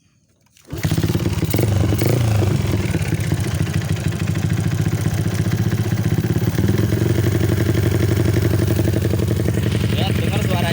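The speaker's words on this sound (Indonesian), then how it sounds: "Ini motor ber-cc 225 cc, beginilah suaranya lah." A Yamaha Jupiter MX motorcycle, bored up to 225 cc, fires up after a brief silence and settles into a loud, close, rumbling run with a steady throbbing beat that continues to the end.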